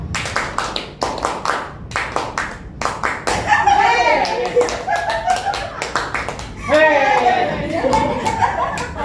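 A group of adults claps quick rhythmic bursts in a counting game at a teachers' workshop, with chuckles and voices calling out between and over the claps.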